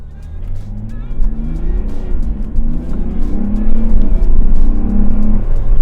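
A Mercedes-Benz GLE 400d Coupe diesel accelerating hard in sport mode, its engine drone rising steadily and growing louder over several seconds with a strong low rumble, heard from close by with no talk.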